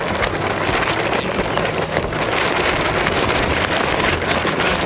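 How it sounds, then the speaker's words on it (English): A strong gust of wind roars over a homemade sailboat in rough conditions, a loud, continuous broadband rush buffeting the microphone, with splashing water mixed in. "Yeah, that's a good gust."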